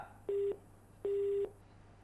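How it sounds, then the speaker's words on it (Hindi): Two identical beeps of a telephone busy tone sound after a call is cut off, each about a quarter second long and evenly spaced, clear and alone against faint background hum. "फोन आपका कट गया।"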